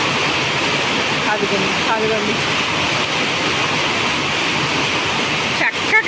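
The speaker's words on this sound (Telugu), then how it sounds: "భలే పడతాయి చూడండి కింద, ఎంత బాగుంటాయో కదా, అలా చుక్కలు చుక్కలు చుక్కలు చుక్కలు పడతా ఉంటే" Rain pours down in a steady, dense hiss of falling drops, loud and unbroken, with a voice speaking briefly over it.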